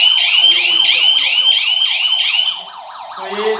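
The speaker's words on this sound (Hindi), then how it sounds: "तो ये काफ़ी हैवी सायरन आप इसके साथ चाहो तो कनेक्ट कर सकते हो" An external siren on a smart security alarm system wails loudly in rapid, repeating up-and-down sweeps, then quiets as a lower electronic tone takes over near the end.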